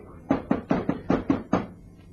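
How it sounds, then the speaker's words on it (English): Seven quick, firm knocks rap on a glass-paneled office door in a radio drama, close and clear in a brisk, even rhythm with no voices. "Knock on his door."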